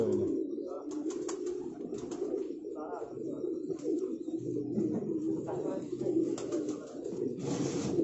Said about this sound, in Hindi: बहुत ज़बरदस्त कबूतर हैं जी जनाब उस्ताद चौधरी इसरार साहब के